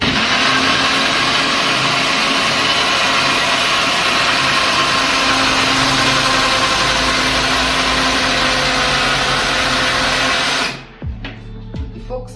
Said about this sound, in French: je préfère utiliser mon petit blender